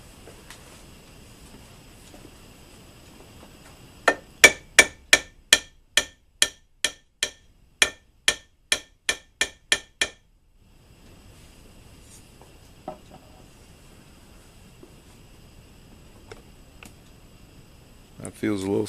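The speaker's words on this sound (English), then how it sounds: "with a little tap on the end of the spindle there, that spindle should come out of the quill" A hammer taps the end of a milling machine spindle to drive it out of the quill, a rapid run of a dozen crisp, evenly spaced metallic knocks, then quiet with a faint later click.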